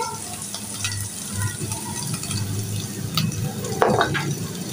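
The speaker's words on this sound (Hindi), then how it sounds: "लहसुन अदरक थोड़ा सा ब्राउन हमने कर लिया है।" Garlic and ginger browning in a little oil for a mango curry give a steady close sizzle with scattered crackles and a few scraping stirs, with no talking.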